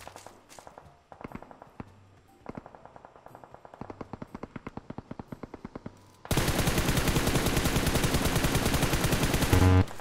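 Automatic gunfire from PUBG, a video game, starts as rapid bursts of shots with footsteps between them, then becomes a dense, loud, continuous volley for the final four seconds.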